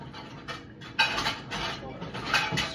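A spoon scrapes and clinks against a bowl in quick, uneven strokes while someone eats, close up and fairly quiet, with no talking.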